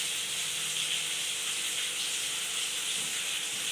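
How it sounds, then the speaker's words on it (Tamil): Curry leaves drop into hot oil for tempering alongside tomatoes, producing a dense, continuous sizzling hiss that stays loud and close throughout. "இப்போ கருவேப்பிலை போட்டுக்கலாங்க தாளிப்புக்கு"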